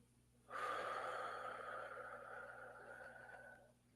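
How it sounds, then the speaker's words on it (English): One long, deep breath, drawn in or pushed out slowly over about three seconds, close and soft against a quiet background hum. "deep breath all the way into the belly, and exhale."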